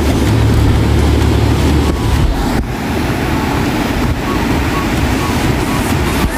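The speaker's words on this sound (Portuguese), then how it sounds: "As ondas, gente, ó, tá bem alta, o mar tá bem agitado" Rough sea at Guarujá beach in rain, high waves crashing and surging in a continuous loud roar with heavy wind-like rumble, a person talking over it.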